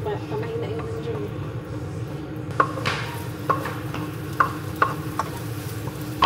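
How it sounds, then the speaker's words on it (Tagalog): Sardines sauté in a pan with a steady sizzle, and a utensil clinks and scrapes against the pan at intervals. A voice talks over the frying. "Gisa-gisa lang talaga. Para sa mag-gisang sardinas."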